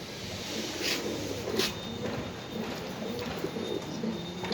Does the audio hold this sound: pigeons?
yes